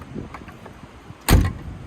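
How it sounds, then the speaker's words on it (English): A door swings shut and catches on its latch with a single sharp, solid clunk about two-thirds of the way through, preceded by quiet handling noises. "the door still shuts on the latch"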